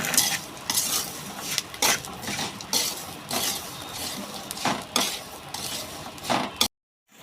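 Almonds roasting in dry salt in a pan, stirred with a utensil: repeated close scraping and gritty rattling strokes in an uneven rhythm, with no voices.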